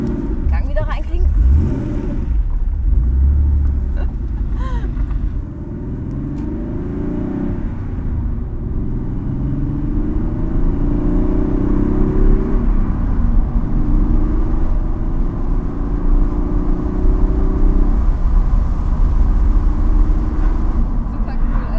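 A Porsche 964 Carrera 2 with a manual gearbox pulls away, its engine rumbling loud and steady throughout with rising and falling revs through the gears, close and continuous, under occasional talk.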